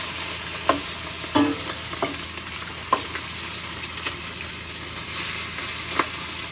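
Pork belly frying in a pan with garlic and sugar, a steady close sizzle with scattered stirring knocks and clinks throughout, no talking.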